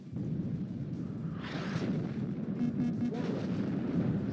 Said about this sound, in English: That's a very close artillery though